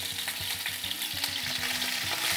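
Salmon searing in a hot frying pan, a dense, loud, continuous sizzle close up, with low rhythmic bubbling underneath.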